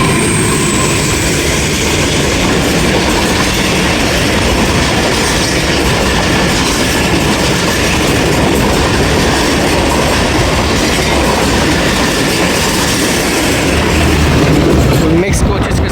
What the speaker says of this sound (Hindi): मिक्स कोचेस के साथ 48 डाउन रहमान बाबा एक्सप्रेस निकल गई जी